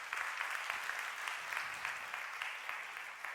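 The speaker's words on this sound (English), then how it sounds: "if we could have a round of applause once again for Mike" A seated audience at a talk on luxury travel in Seoul gives sustained applause, dense overlapping claps holding an even level throughout, fairly close, with no voices over it.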